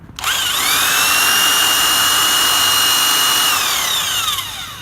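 A power drill with an auger bit bores into a solid wood door, its motor starting sharply and whining at a steady loud pitch for several seconds before winding down, close by with no talk.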